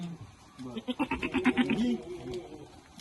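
A long-eared Osmanabadi goat lets out a single wavering bleat up close, lasting about a second, with faint background noise around it.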